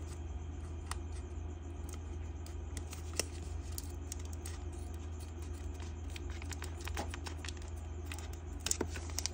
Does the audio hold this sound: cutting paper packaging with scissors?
yes